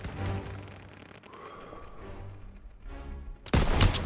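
Covering gunfire in the video game Call of Duty WWII during a church tower fight, distant rattling rifle and machine-gun bursts under battle ambience, ending in a loud close burst of shots.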